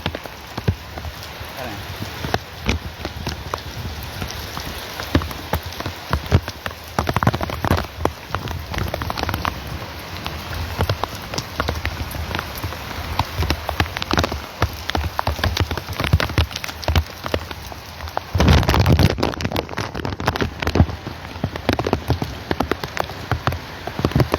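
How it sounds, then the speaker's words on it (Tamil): Heavy rain falls in Melapalayam, a loud, dense and unbroken hiss of drops with frequent close, sharp splashes, sustained for the whole stretch with only a brief dip in intensity and no voices. "மேலப்பாளையத்தில் ரொம்ப நாளைக்கு அப்புறம் சூப்பரான ஒரு மழை."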